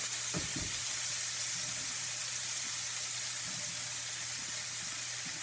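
Steak sears in a hot pan with garlic while being flipped and basted, giving a steady close sizzle and hiss throughout with a few faint clatters near the start.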